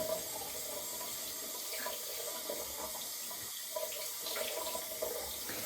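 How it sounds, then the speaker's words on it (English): Cold water running from a tap to rinse a shaving brush, a steady close splashing stream with small irregular gurgles and spatters, no voices. "Cold water now."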